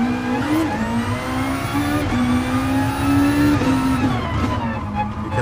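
A race car engine in Gran Turismo VR revs and climbs through gears at the start of a race, a loud continuous whine rising and dropping with shifts.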